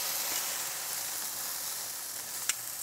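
Garlic shrimp cook in olive oil on an open Grill Dome kamado, giving a steady, even sizzle with no break and one brief sharp pop near the end.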